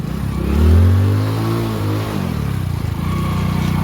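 A car's engine revs hard and strains while trying to climb out of a spot where it is stuck off-roading in the Konkan, with the loud, close revving rising and falling and then settling into a steady drone.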